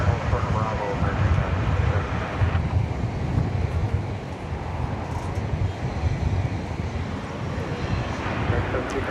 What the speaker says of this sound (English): Yonder we see an incoming flight from Albuquerque